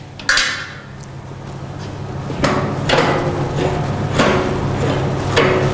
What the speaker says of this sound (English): Next thing we need to do is release the ratchet first.